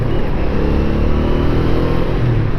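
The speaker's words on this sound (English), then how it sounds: "this is a very high revving bike" A Honda Ascot motorcycle engine runs loud and close with a steady throaty drone that climbs slightly near the end, no voices.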